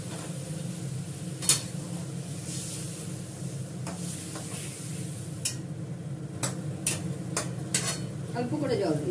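Meat with dried red chillies cooking in a pan as a little water is added, giving a soft steady sizzle and hiss with scattered sharp clinks of a spoon stirring against the metal.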